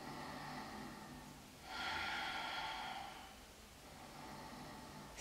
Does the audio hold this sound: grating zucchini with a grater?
no